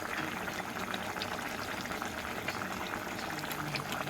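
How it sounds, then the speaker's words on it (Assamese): Steady, dense bubbling of a fish curry boiling vigorously in a pot, a continuous close simmering roar with no pauses. "তৰকাৰীখিনি হৈ গ'ল, উতলি আছে।"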